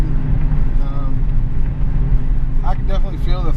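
Car engine with a newly installed cold air intake pulling hard, a loud continuous roar with engine tones rising as it accelerates.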